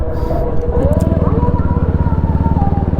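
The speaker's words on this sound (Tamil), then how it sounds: "அதாவது நம்ம செகண்ட் கியர் தேர்ட் கியரில் நம்ம ஸ்லோவாக போகிறப்ப சவுண்டு ஹெவியாக இருக்கும் இந்த வண்டி" A Royal Enfield Bullet motorcycle engine thumps heavily while riding slowly in second or third gear, a steady rapid low pulsing throb that stays loud and close throughout with wind rush on top.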